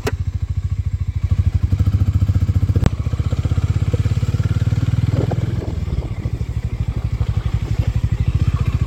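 A Harley-Davidson X440 motorcycle engine throbs loudly and close up, its rapid pulsing beat holding steady with slight dips as the bike rides along near top speed.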